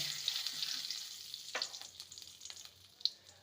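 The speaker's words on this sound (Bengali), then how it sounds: "ফোড়নটাকে কয়েক সেকেন্ড ভেজে নেব" Whole cumin seeds and a bay leaf sizzle in hot oil with a steady bright hiss, broken by a few sharp pops and light stirring scrapes, close and fairly quiet.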